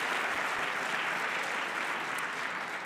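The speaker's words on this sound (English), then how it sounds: "Yeah, applause." Dense, steady applause from a large audience at an evening award ceremony and reception, filling the room as an even wash of clapping with no voices on top.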